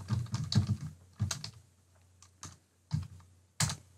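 Keys clatter on a computer keyboard as a page name is entered, short bursts of close, crisp typing separated by pauses, with no voices.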